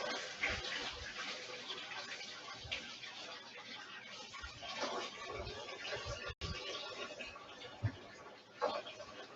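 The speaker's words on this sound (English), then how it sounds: "I'm going to wash my hands" Tap water runs steadily while hands are washed in a home kitchen, a continuous splashing hiss with small bumps and clatters, fairly close and moderately loud, with no talking.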